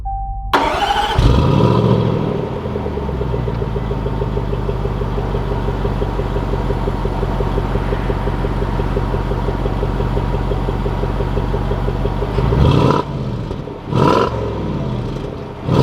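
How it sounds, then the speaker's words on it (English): A 2020 Range Rover Sport HSE Dynamic cranks and fires up with a loud rev, then settles into a steady, close idle for about ten seconds before a few short blips of sound near the end. "Let's take this Range Rover Sport out and see how she drives."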